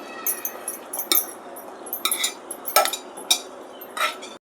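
Metal utensils clink and scrape against a pan while soybean chunk and green pea curry is served into a bowl, a handful of sharp, irregular clinks over a quiet kitchen background.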